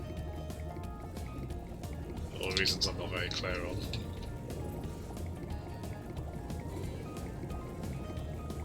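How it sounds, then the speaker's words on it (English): Spyro leaps into a waterfall in the Spyro Reignited Trilogy video game, making a brief bright splash of about a second. Steady game sound and ongoing talk run beneath it. "Gives you a flashy triple jump and then jumps into the nearby waterfall."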